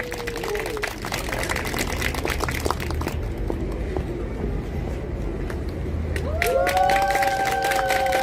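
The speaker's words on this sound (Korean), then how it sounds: "박수로 모시겠습니다" Audience clapping to welcome a speaker at a public security forum and rally, a dense, even wash of applause heard from a distance for several seconds, with a low rumble and a few tonal notes near the end.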